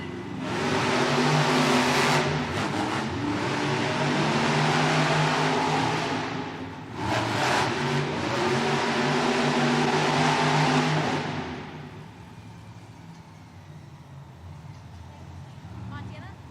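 Monster trucks race in an indoor arena in Southaven, Mississippi, during a Monster Jam event, their engines roaring loudly for about eleven seconds before fading to crowd noise, with talk over the din.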